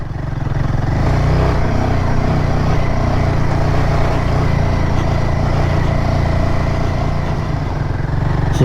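A Royal Enfield motorcycle rides a rocky dirt track on the way to Mt Terrible, its engine a loud, steady, close thrum with faint clattering over the rough ground and no talk.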